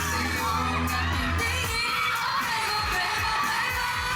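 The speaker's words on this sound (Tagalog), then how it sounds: "Grabe yung sigaw." A loud crowd screams and cheers continuously at close range at an outdoor sunset concert, while a steady thumping beat from live music plays underneath.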